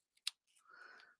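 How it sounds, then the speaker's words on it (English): Quick scissor snip trimming the tails of a tied ribbon bow, a single sharp close cut followed by a short soft rustle of paper and ribbon. "And let's just trim these tails."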